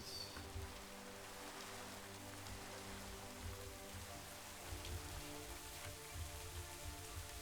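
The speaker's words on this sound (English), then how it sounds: "Okay, it's raining in some areas." Steady rain patters on a surface in the Minecraft modpack TerraFirmaGreg, a soft continuous hiss with a low hum underneath.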